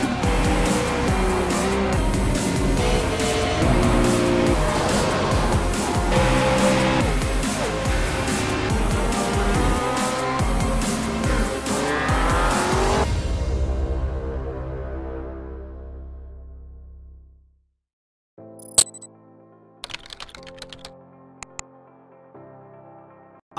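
Race cars roar in the iRacing sim racing game, with VW Beetles and Ford Fiestas in a winter series round. Loud, dense engine noise and tire sound fill the first part, then fade out, leaving sparse electronic tones.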